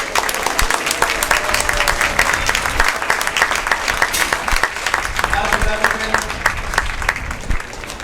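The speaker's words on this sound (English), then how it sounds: "Let's give these guys behind me a big round of applause." Steady applause from a crowd at a Newport Gulls baseball game fills the whole stretch, dense clapping carrying on while someone speaks over it.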